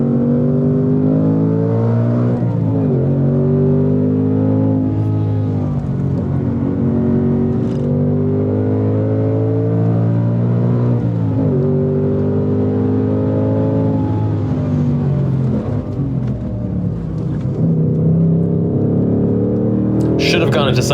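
A 2024 Ford Mustang Dark Horse engine drones steadily at high revs on a track, pitch rising and falling through gear changes, loud and close throughout with a voice talking over it.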